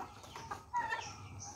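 Chickens on a farm cluck in a quiet, brief burst of short calls close by, with faint background noise.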